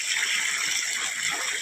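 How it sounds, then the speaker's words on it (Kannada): Water streams steadily across a maize field during irrigation, a continuous close rushing and gushing with no break and no voices. "ಈ ನಾವು ಗೊಂಜಾಳಕ್ಕೆ ನೀರು ಹಾಸ್ತೇವಲ್ಲ"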